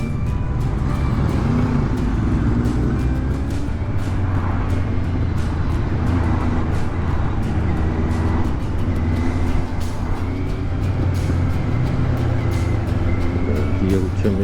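City traffic flows through Pärnu in a continuous wash of car engines and road noise, with vehicles passing nearby and voices faintly audible over the steady hum.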